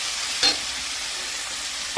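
Potatoes being stirred into cooked spice masala in a pan for ghugni, a faint steady sizzle with two brief scraping strokes, one early and one at the end.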